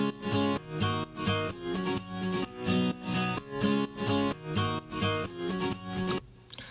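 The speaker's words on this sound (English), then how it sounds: "the first guitar that I thought I should involve in the drop sounded like this" Electronic dance drop guitar line playing bright, rhythmic plucked chords in steady repeating bursts, stacked with a thick, full mix. It plays alone and cuts off near the end.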